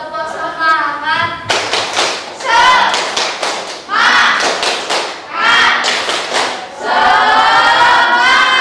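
A school class in Klaten, Indonesia performs a tepuk semangat chant, with rhythmic bursts of group clapping and shouted voices in repeated patterns, loud and close, led by the class leader.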